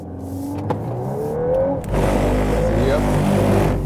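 Volkswagen Golf 8 R Variant idling at standstill in drift mode with ESC Sport, the engine droning steadily with tonal whines and a clunk of braking intervention midway, over faint background talk.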